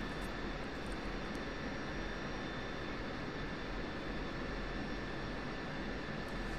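Steady, continuous roar of an F-16C Viper jet engine in the DCS flight simulator, broadband and unchanging throughout, heard from inside with a faint high whine on top.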